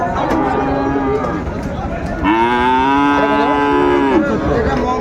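A Friesian or crossbred bullock at a Gazipur cattle farm gives a long, loud, close moo, with low background chatter and farm noise around it.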